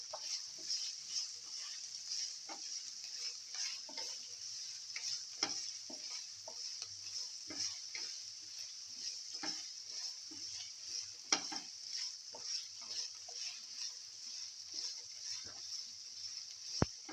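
Onion, ginger and garlic sautéing with salt in a pan, giving a steady bright sizzle throughout with frequent light scraping stirs and occasional sharper clicks, close and moderately quiet.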